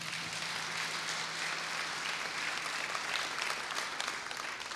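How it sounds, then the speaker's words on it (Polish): Steady applause from an audience at a regional Christmas carol concert, a dense continuous wash of clapping hands holding evenly for several seconds with no talking. "Brawa dla Franka."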